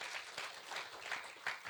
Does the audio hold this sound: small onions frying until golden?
no